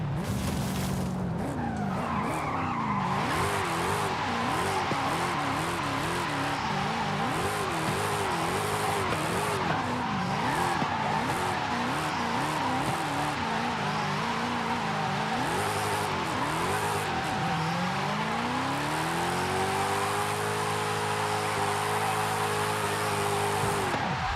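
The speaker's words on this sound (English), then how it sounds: "Dude, the downshift sounds so good." Car engine in Forza Horizon 5 revving and downshifting through a long drift, with steady tire skid and squeal loud throughout and engine pitch rising and falling in waves, then a long rising rev near the end.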